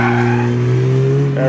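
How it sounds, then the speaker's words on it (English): A Mazda MX-5 sports car drifts out of a corner on a sprint course, its engine droning at a rising pitch near and loud, with a brief tire squeal and a voice speaking over it. "Followed by the MX-5. A little drift on the way out."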